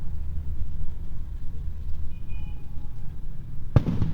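A single sharp firecracker bang cracks out near the end, loud and close, over a steady rumble of a running motorcycle.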